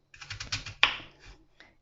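A knife chops apples into dice on a cutting board with a quick run of light, close taps, then one sharper chop and a couple of softer strikes.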